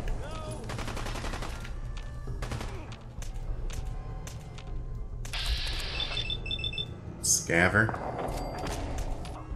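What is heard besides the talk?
gunshots in VATS from the video game Fallout 4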